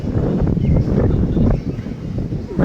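Strong wind gusts across an open rooftop, buffeting the microphone with loud low rumbling bursts that rise and fall in uneven waves.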